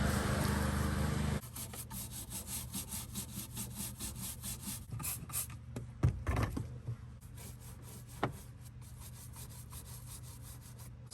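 A rag scrubs back and forth against a stained surface on a Jeep JK during cleaning, making steady, close rasping friction strokes with a louder burst at the start, no talking.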